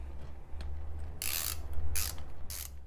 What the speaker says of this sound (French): Et là, on va pouvoir venir serrer notre écrou d'embrayage.